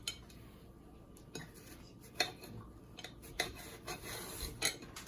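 A knife slicing through zucchini on a cutting board, producing a few faint, sparse taps and knocks against the board with a quiet background hum.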